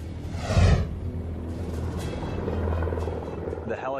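A rescue helicopter flies through a canyon with a loud whooshing pass and a steady low rotor rumble, and a voice briefly speaks near the end.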